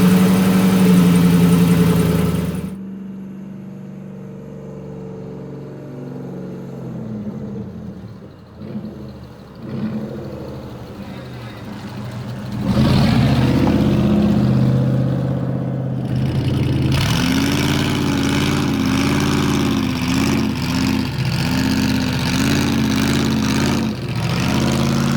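Engine of a 1969 Volvo 164 running close by: a loud start, then a quieter idle, then strong rising revs that hold steady at a high, rough drone for the rest of the clip.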